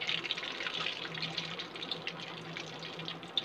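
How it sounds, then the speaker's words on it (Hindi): Cornflour-coated pieces for veg Chinese bhel sizzling as they deep fry in hot oil, a steady, even crackling hiss that runs throughout with no talk over it. "अब यह कोटिंग हो चुका है, इसको हम थोड़ा थोड़ा करके डालेंगे तेल के अंदर,"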